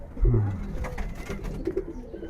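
Giribaz pigeons coo softly nearby, a couple of low throaty coos over a busy background of rustling and faint voices.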